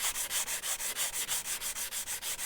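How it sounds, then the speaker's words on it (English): A wooden toy tractor is sanded by hand in quick, even back-and-forth strokes, a close, rhythmic scratchy rubbing that repeats about six times per second with no talk. "we'll just sand sand it off a little bit."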